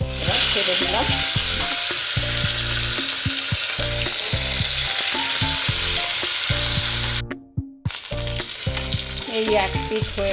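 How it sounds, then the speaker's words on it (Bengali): Tilapia pieces fry in hot oil in a pan with a loud, steady sizzle and bubbling, broken by a sudden brief drop near the end before the crackle returns. "এরপর আমি মাছগুলো কড়াইয়ে ছেড়ে দেব।"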